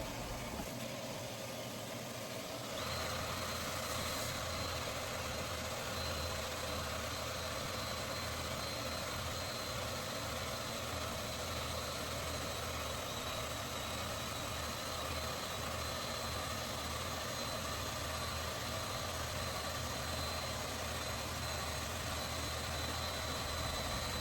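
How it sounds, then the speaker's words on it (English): A vacuum cleaner switches on and runs with a steady, unbroken whine and hum, close by and unchanging for the rest of the stretch, cleaning dust inside a fiberglass boat during hull repair. "I always use a vacuum to make my life easier with further cleaning of dust"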